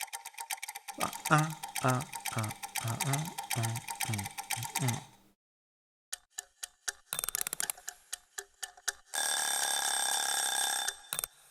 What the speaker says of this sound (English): we also have all the way you can wind them up. That's what you're hearing here. And obviously all the bells as well.